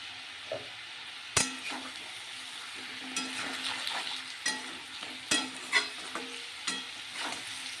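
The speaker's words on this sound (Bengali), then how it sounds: "এবার নেড়ে চেড়ে নেব।" Potatoes with cumin, Kashmiri chili and turmeric powders fry quietly on low gas in a pan, a soft steady sizzle broken by scattered scraping stirs and spoon clinks close by.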